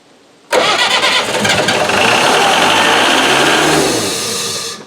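An old Hydrovane compressor motor, unused for 18 years, cranks briefly and then catches, roaring into a loud, steady, close run that stays even until the end.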